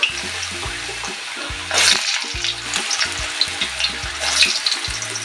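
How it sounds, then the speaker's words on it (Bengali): Potatoes frying in hot oil in a home kitchen, a steady close sizzle broken by bursts of spattering and scraping stirs, with no talking. "প্রথমে আলুটাকে আমি ভেজে নেব আলুগুলো আমি ছেড়ে দিলাম"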